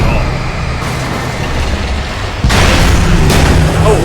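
A flashbang goes off in the video game Alan Wake Remastered, a sudden loud boom about midway that lifts into a sustained, broadband roar over a rumbling game backdrop, with no voices.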